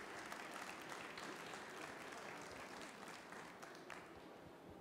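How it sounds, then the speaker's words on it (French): Faint, distant audience applause for the jury at a cooking competition event, a steady wash of clapping with no talk over it. "Vous pouvez aussi encore à nouveau applaudir le jury parce qu'ils font un super boulot."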